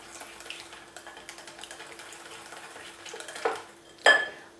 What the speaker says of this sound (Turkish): Çırpıcı yardımıyla şöyle güzelce karıştırıyorum.